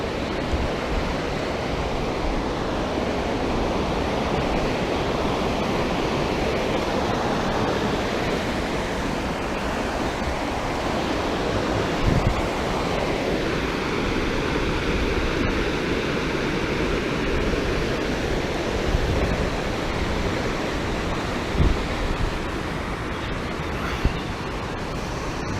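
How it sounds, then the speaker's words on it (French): Loud, steady rushing of a large waterfall beside a dam on the Allier, a dense continuous roar filling the whole stretch with only slight swells and no voices. "La grosse chute est là. Ça, c'est le barrage."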